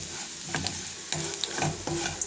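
Grated fresh coconut deep frying in hot oil with asafoetida, steady crackling sizzle with occasional stirring scrapes, close and continuous.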